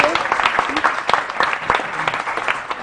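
A TV studio audience on a morning show applauds in a dense, steady burst of close clapping, with a voice faintly mixed in.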